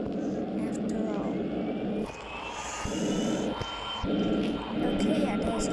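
Simulated MD-80 jet landing in the X-Plane 10 mobile flight game, a steady engine roar with a rising whine, interrupted by a few thuds and dips as it touches down, while a person talks over it.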